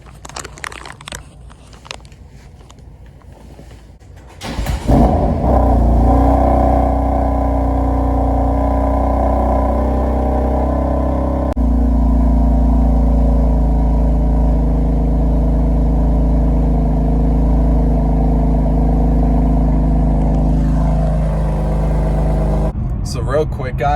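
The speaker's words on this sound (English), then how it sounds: "let's hear that stock cold start" A stock BMW M4 on its factory exhaust fires up cold: quiet clicking first, then the engine catches with a loud bark and settles into a steady, heavy high idle that holds for nearly twenty seconds, close and loud.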